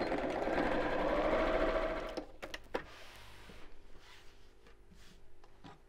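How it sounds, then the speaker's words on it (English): A sewing machine stitches straight across the top of a Christmas stocking, a steady close whirring run for about two seconds that then stops, leaving a few faint handling clicks and taps. "I'm going to sew straight across the top of here, just over half an inch from the top"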